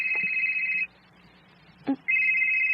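A telephone rings for an incoming call: two bursts of electronic ringing separated by a short pause, close and clear, with no talk over it.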